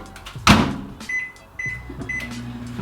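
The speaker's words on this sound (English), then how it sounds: "We're gonna toss this in the microwave for 33 seconds." Microwave oven running to heat a serving of frozen raspberries and blackberries, opening with a loud door clunk, then a steady low hum with faint beeps, close by and without talk.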